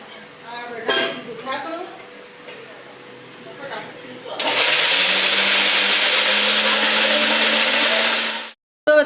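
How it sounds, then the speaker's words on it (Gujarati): Talk and kitchen clatter, then a mixer grinder whirs loudly for about four seconds before cutting off abruptly. "તે આગળ મિક્સરમાં ક્રશ કરી નાખશું"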